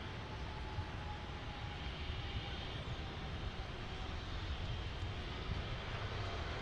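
Boeing 767 jet engines at DFW airport produce a steady, broad roar with a faint whine running through it, heard at a distance and holding level and continuous throughout.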